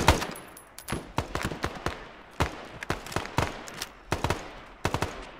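Rapid gunfire in the military shooter Arma 3: clustered bursts of sharp automatic shots and single cracks, some near and some more distant, repeating irregularly with no talk over them.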